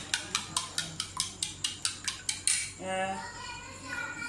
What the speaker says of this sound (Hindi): अंडों को अच्छी तरह से फूड कलर और नमक डालकर फेंक लें।